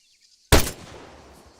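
A sergeant's rifle fires a single sharp shot in the video game Arma 3, loud and close, after near silence, followed by a fading echo and faint outdoor ambience.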